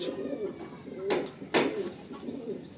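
A Kalanka high flying pigeon gives soft, low cooing phrases close by, broken by a couple of sharp knocks, with someone talking faintly in the background.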